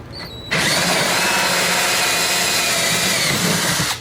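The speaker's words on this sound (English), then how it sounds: "I'm using a Milwaukee drill bit. It's really doing very good." A Milwaukee drill bit bores a hole, a loud steady close-up whir lasting about three and a half seconds after a brief quiet start, with no speech.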